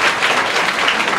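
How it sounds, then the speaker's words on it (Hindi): An audience applauds a student at a gathering in Jamui district, giving a short burst of dense, even clapping from many hands. "थोड़ा ताली बजाइए इन बच्ची के लिए।"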